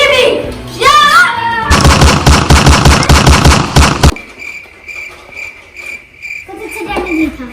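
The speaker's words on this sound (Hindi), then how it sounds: "जल्दी से इस गन को लोड कर लेता हूँ यार, क्योंकि ये गन बहुत मस्त है।" Rapid automatic gunfire from a video game gun bursts out loud and fast for a couple of seconds, with game sounds before it and a quieter electronic tone and shuffling after.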